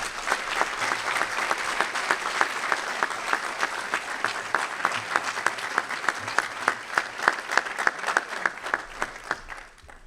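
Audience applause at an Army ROTC commissioning ceremony, a sustained crowd of clapping hands that thins toward the end into distinct, rhythmic individual claps before fading out.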